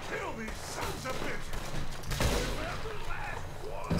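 Gunshots in the game Red Dead Redemption 2, several sharp cracks scattered among busy game sounds, with people talking over them.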